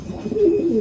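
A pure white loft pigeon coos close by, a loud, low throaty coo swelling and wavering over a brief moment.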